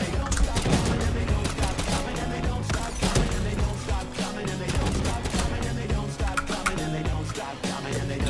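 Mustang and Sally paired pistols firing in Black Ops 3 Zombies, a relentless rapid barrage of loud shots and explosive bursts running continuously, layered with game noise and no pause.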